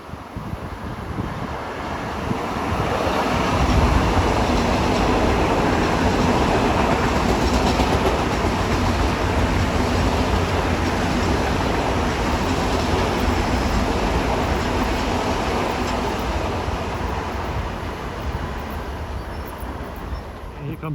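An M9 commuter train, number 658, rolls into Kew Gardens on track 2, a loud, sustained roar of wheels and wind building within seconds and holding steady as it slows, faint rail clatter running through it.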